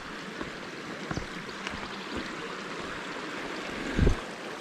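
Soft steady trickle of a small stream running over rocks on a walking trail near Marrinup Falls, continuous and fairly quiet, with a couple of brief low thumps.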